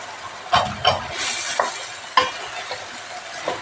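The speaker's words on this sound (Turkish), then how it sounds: "Şöyle bir sosuyla beraber karıştırayım" Okra stirred into a tomato sauce in a frying pan: a steady sizzle with several sharp scrapes and clinks of the spoon at uneven intervals, close and fairly loud, with no talking.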